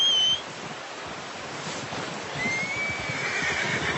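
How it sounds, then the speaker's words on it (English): A horse in the Red Dead video game whinnies against steady wind-like outdoor ambience, the call rising faintly in the latter half of the clip, with no talking. "Here comes our horse"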